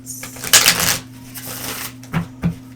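Tarot cards are handled and pulled from a deck, giving a loud riffling flutter near the start followed by softer slides and two sharp snaps, close up over a low electrical hum.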